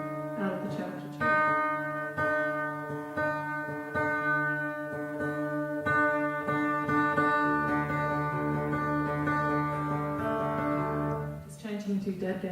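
An acoustic guitar at a live show is plucked and strummed while being retuned to DADGAD, with sustained ringing chords and several fresh attacks over about twelve seconds, close and steady in level.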